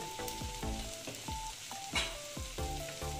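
Masala frying slowly in a pan after ground cumin and coriander go in, a steady sizzle punctuated by repeated scraping stirs and clinks, close and fairly loud, with music playing underneath and no talking.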